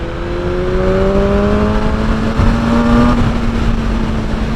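A BMW M1000R naked bike with a 210 bhp engine pulls hard in fifth gear on an unfamiliar road, its loud onboard engine note climbing steadily in pitch over wind roar, without any speech.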